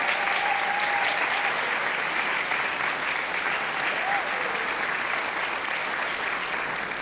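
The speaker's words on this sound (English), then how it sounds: "Let's have another round of applause for the Downers Grove North High School Choir." Sustained applause for the Downers Grove North High School Choir at a choral festival in St John's Waterloo church, a dense, even roar of many hands filling the hall, with faint talk beneath.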